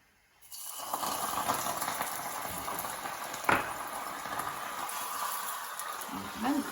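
A sharp, continuous sizzle bursts up as seeds hit hot oil in a pan, holding a steady crackling hiss with one brief louder pop midway.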